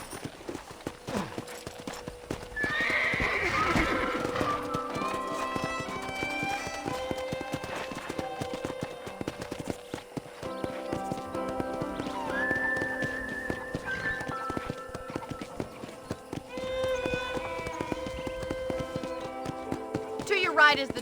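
Rhythmic hoof clip-clop of a horse moving at pace in Red Dead Redemption, with game music and occasional voices over it.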